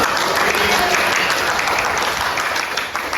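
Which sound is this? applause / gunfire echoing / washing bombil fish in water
applause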